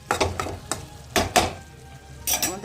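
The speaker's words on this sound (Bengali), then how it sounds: "পালং শাকটাও বসিয়েছি" Spinach cooking in a home kitchen pan, with several short bursts of stirring and scraping over a light sizzle, spaced irregularly and fairly close.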